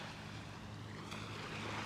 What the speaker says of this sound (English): Like the sound of the waves, like ASMR, right?